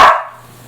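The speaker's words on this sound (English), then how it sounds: "Excuse my dog." A dog gives a single sharp bark indoors in a home kitchen, loud and close, followed by a quiet room hum.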